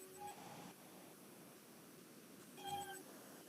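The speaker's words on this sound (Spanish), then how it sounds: "van a sentir un poco de ruido porque acá mi hermana tiene gato, perro, todo" A house cat meows twice in a home, short tonal calls at the start and again near the end, moderately close over a steady background hiss with no talking.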